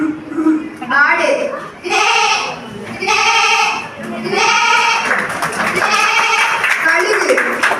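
A person mimics a goat with a series of wavering, quavering bleats, loud and close, repeated about five times in a row with brief breaks between them.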